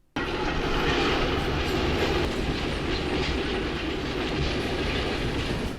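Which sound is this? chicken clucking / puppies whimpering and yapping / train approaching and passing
train approaching and passing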